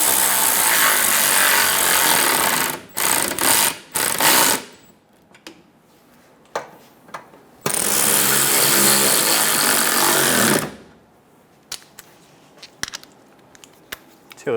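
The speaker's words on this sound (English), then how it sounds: "Get the 10mm bolt started. There should be 4 of these. We only have 2. Snug the bolts down." A driver runs 10mm bolts down on a front impact airbag sensor of a 2014-2018 Chevrolet Silverado 1500. Two long, loud whirring bursts are separated by short stuttering pulses and scattered clicks.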